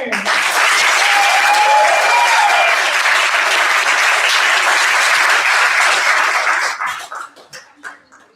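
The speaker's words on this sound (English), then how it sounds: "And one more round of applause for this year's Poetry Forward winners." Loud, dense applause from the audience at a state poetry recitation final, sustained for several seconds before tapering off into a few scattered claps.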